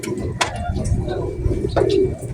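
Pigeons coo low and soft through a short stretch of outdoor noise, with a couple of brief higher calls, at a Lucban, Quezon racing-pigeon training release.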